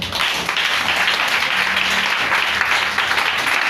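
A church congregation applauding during a service, a dense continuous wash of clapping and cheering that holds steady throughout, fairly loud and close.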